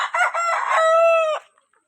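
A rooster crows once, loud and close, a drawn-out call of about a second and a half that cuts off cleanly into silence, with no talk over it.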